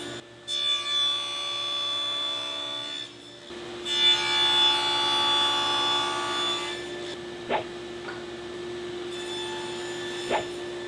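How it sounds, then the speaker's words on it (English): Table saw fitted with a stacked dado set cutting finger joints in wood: two loud, sustained close passes with a brief dip between, then steady motor hum with a couple of sharp knocks, no talk. "to cut those finger joints, I'm going to use a stacked dado set and my table saw"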